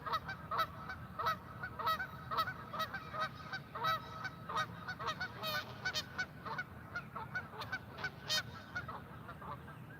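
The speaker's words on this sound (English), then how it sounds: "Geese are all paired off. You're noticing they keep coming by and they're all in groups of two." Paired geese honk again and again in an irregular chorus at sunrise by the water, some calls nearer and louder, others fainter, over a soft outdoor background.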